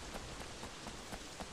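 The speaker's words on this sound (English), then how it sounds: "Why is it raining?" Steady rain falls in the video game Sleeping Dogs, a constant faint hiss of drops with small regular patters on hard surfaces, with no voices.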